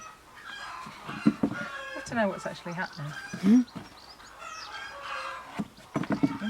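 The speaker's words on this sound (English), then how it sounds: "The chickens are enjoying them anyway." Chickens in a backyard vegetable garden cluck and murmur softly in short scattered calls, close by but quiet, under intermittent conversational talk.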